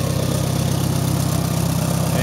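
A 1973 IH Farmall 140 tractor engine idles steadily close by, a loud, even low-pitched chug with a regular pulsing beat and no voices over it.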